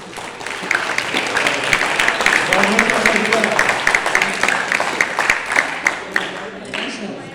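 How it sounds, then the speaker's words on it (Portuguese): An audience at a coaching talk on emotional intelligence and NLP breaks into applause, a crowd of hands clapping in a lively burst that builds, holds and then thins into scattered claps near the end, with some voices mixed in. "Palmas para ela."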